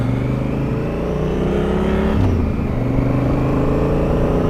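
A big Honda Africa Twin motorcycle engine runs close by. It holds a loud, steady drone with a slight rise in revs partway through.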